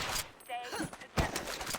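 Gunfire crackles in the online shooter game WarRock, with a couple of sharp shots and quick bursts amid other game noise, while players talk over it.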